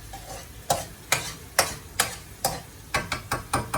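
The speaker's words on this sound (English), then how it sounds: "the tomato is cooked now, so let's just stir it a little bit" A spoon stirs cooked tomato in a pot for South Indian rasam, giving about ten sharp scraping strokes in an uneven rhythm, close and clear, with a soft simmer beneath.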